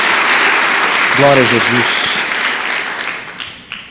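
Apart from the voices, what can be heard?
applause in church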